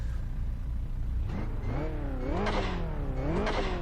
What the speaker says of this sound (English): There is a noticeable difference there with the blow-off valve